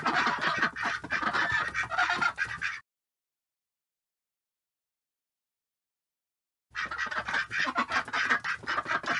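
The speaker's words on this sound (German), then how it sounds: "Mama Ente freut sich." Ducks quack in the Baby Born PC game, with two stretches of busy, honking calls layered over game music, separated by several seconds of complete silence.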